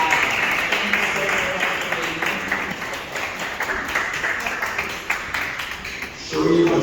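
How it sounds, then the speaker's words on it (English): A political community gathering audience welcomes the Queens County GOP chairman with a burst of clapping that fades somewhat over several seconds, with voices mixed in under the applause. "So please give a round of applause as we welcome our Queens County Chairman, Tony Nunziato"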